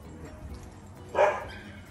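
A single short bark from a dog at a doggie daycare stands out over a quiet room, moderately close.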